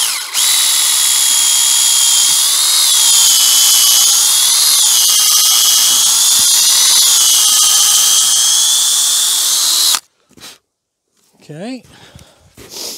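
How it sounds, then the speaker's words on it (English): A power drill bores a tap hole into a maple tree, a loud, steady high-pitched whine with slight pitch wobbles running for about ten seconds, then cutting off abruptly, followed by faint rustling and scraping sounds. "I'm going to drill here."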